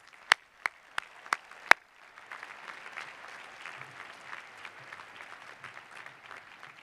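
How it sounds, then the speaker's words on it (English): At a 2017 college graduation ceremony, a few sharp claps ring out first. A soft, distant spatter of audience applause for the faculty follows and continues steadily. "So please join me in applauding our outstanding faculty."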